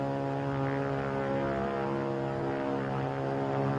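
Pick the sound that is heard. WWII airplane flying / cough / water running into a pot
WWII airplane flying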